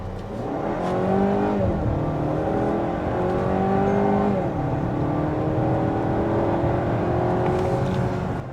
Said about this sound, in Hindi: अभी 30 की स्पीड में मैं एक्सेलरेट करता हूँ।